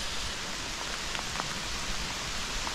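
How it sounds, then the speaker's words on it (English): Heavy rain pouring steadily through summer woods, a dense continuous hiss with scattered nearby drips and patters, no voices. "It's absolutely pissing down now."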